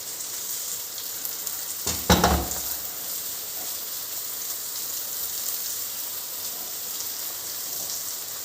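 Green beans dropped into a hot pan for a Kerala-style beans mezhukkupuratti stir-fry, giving a brief loud burst of sizzling as they land, then a steady faint frying hiss that continues on its own.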